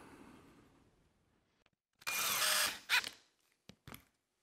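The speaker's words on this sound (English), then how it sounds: "I'm just gonna countersink 1 screw back here" Power drill countersinking a screw during work on a wooden zero clearance table saw insert: one short loud whirring burst, followed by a few brief clicks and knocks, close by in an otherwise quiet space.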